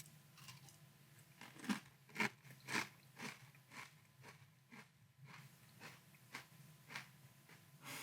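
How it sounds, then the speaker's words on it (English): Dry Caramel Corn Chex cereal being crunched, a steady series of close, crisp bites and chews in a quiet room, with no speech. "Let's give a try to Caramel Corn Chex Dry."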